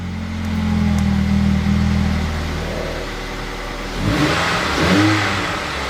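A Ford Fusion 2.3L engine with its exhaust valve closed revs up and settles, a steady mid-pitched drone with a muffled exhaust note, close by and without talk.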